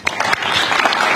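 Journalists at a press luncheon break into brief, dense applause, a loud close burst of many hands clapping together for about a second.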